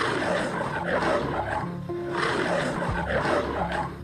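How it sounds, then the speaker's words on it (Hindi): Cartoon lion roaring in a jungle setting, a broad, sustained growling roar that fills the clip with continuous loud rumbling and swells, set against dense background sound and no speech. "तभी उसे शेर की आवाज सुनाई दी"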